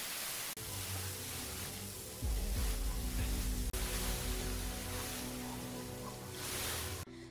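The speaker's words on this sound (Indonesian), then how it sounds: "Tiba-tiba air keran bocor kemana-mana." Water gushing hard from a leaking tap, a loud, steady rushing wash that runs unbroken for several seconds, with no voices and a brief break near the end.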